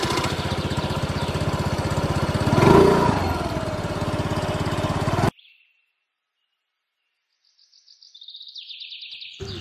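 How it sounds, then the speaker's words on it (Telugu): A motorcycle engine runs close by at a steady, buzzing idle for about five seconds, then cuts off abruptly into silence. A faint high chirping follows near the end. "పద బైక్ స్టార్ట్ చేయి"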